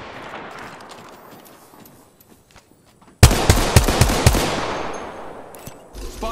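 Gunfire in the battle royale game Apex Legends: faint scattered shots, then a sudden loud burst of rapid automatic fire that tapers into a lingering rumble.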